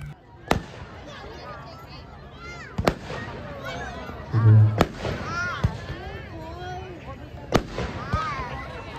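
Fireworks and firecrackers at an Army Day evening celebration go off in several sharp, loud bangs spaced a few seconds apart, with whistling and crackling rockets in between and people talking underneath.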